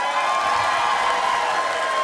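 A comedy club audience applauds and cheers for a comedian, a dense, loud, steady wash of clapping and whoops from a crowd that fills the whole moment.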